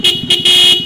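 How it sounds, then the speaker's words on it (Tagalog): Horn of a Honda CB150R motorcycle with newly wired auxiliary lights and horn, sounding in three loud, close bursts of a bright, buzzy tone with short gaps between them. "So yung busina."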